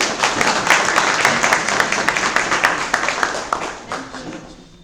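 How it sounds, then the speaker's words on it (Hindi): An audience at a college event applauds heartily to welcome a guest speaker, a physics assistant professor. A loud burst of clapping starts at once, then thins and fades out over about five seconds. "हम उनका एक बार जोरदार तालियों से स्वागत करेंगे"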